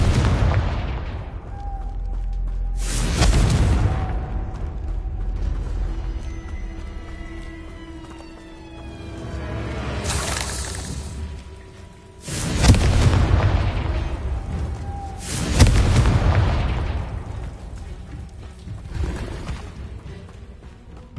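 Several heavy booming blasts go off at intervals in the Hogwarts Legacy video game, the Confringo spell exploding loudly with rumbling decays between the hits.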